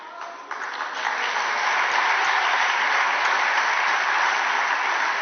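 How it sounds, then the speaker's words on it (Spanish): A parliamentary chamber fills with sustained applause, starting thinner and swelling into a dense, steady clapping that holds to the end. "Aplaudan, aplaudan."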